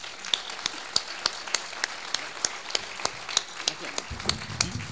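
Scattered handclaps from a small audience at a university academic-year ceremony, sharp and evenly spaced in a quick, regular rhythm over a soft room murmur, with a low rumble of voices joining near the end.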